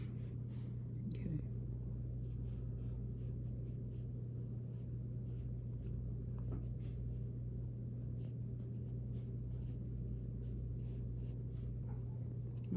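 Pen or pencil writing words on paper indoors, a soft continuous scratching close by over a steady low hum, with faint whispery sounds and brief murmurs at times.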